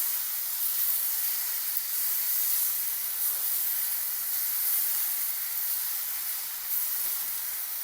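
Green chilies roast with chopped safflower greens in a hot pan, giving a continuous, fairly loud hiss and sizzle that holds evenly with no voices.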